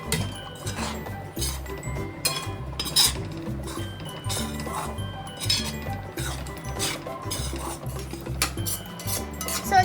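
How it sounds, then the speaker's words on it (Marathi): Semolina (rava) roasting in ghee in a pan, a utensil stirring it with repeated metallic clinks and scrapes against the pan over a steady rhythmic background. "तर आता आपल्याला घ्यायचा आहे रवा भाजून तुपामध्ये."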